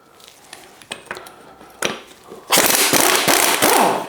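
An air impact gun works on a badly worn FSA Mega Exo bicycle bottom bracket bearing, giving a few sharp knocks and then a loud, sustained rattling burst close by.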